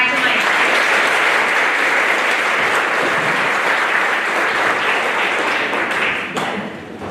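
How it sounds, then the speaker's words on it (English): A school auditorium audience applauds students at a high school honors day, a dense, sustained wash of clapping from many hands that holds steady and then thins out near the end. "Let's give all of our students a round of applause."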